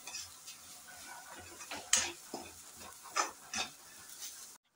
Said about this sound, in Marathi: हे ह्याच्यात घालून आणि व्यवस्थित परत परतून घ्यायचं आहे.